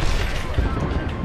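Gunfire from a first-person shooter match, rapid bursts packed densely across the moment alongside a thermite throw, loud and close with a brief heavier boom near the middle.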